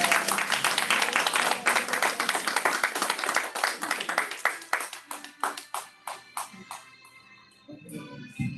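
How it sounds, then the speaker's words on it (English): Applause from a board meeting audience for Musa, many hands clapping steadily at first, then thinning into scattered individual claps before dying away. "Give a round of applause for Musa."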